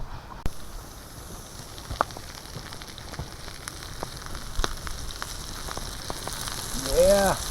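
Food sizzles over campfire coals at a remote wilderness campsite, a soft steady crackle and hiss with scattered sharp pops and snaps, heard up close.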